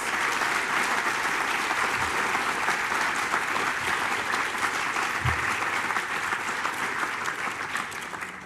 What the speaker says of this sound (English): one big final round of applause for all of our competitors